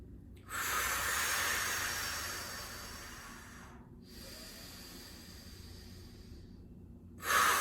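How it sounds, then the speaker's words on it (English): Long, heavy breaths held through an exercise pose, two drawn-out airy exhales close to the mic separated by a short pause, then a sharp intake at the end. "I'm gonna hold it here for 2 more breaths"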